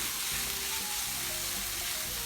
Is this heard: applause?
no